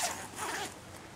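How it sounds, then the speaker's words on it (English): Quick zipper pull on a bridge hammock fitted with a double zipper and an extra head-end zipper, one short raspy pass close by and fairly quiet, no talk. "I actually installed a third zipper at the head end"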